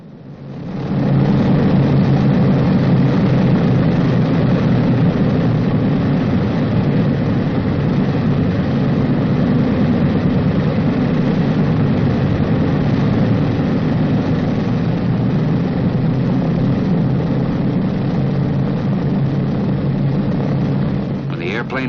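Boeing B-29 bomber engines run steadily before taxi, a loud, continuous deep piston drone with a dense rumble that holds level throughout.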